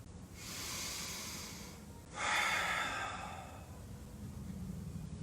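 Slow, deep breaths during a strong high lunge yoga workout, two long airy inhale-exhale sweeps heard close and alone, with no talking over them.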